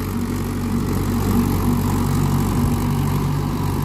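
Tractor engine running steadily in first gear of the medium range at about 1600 rpm while ploughing dry off-season field soil, a continuous close, loud low drone with no talk over it.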